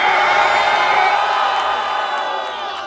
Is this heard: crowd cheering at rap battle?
yes